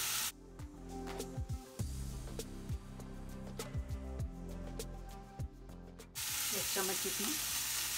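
Soy sauce and teriyaki sauce sizzle in a hot pan of vegetarian fried rice, a steady close frying hiss with scattered crackles and clinks, louder toward the end, while someone speaks briefly.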